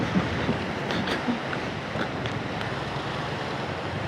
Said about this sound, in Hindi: ये है जी दरियाए पंचखोड़ा।